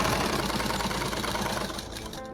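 A sewing machine running a steady stitch on salwar cloth gives a continuous mechanical whirr with a rhythmic hum, fairly quiet, before slowing and stopping near the end.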